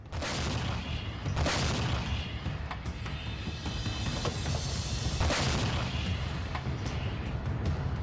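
Artillery guns fire shells in a war zone, with several heavy booms at irregular intervals, some close and loud, others more distant, over a constant rumbling background.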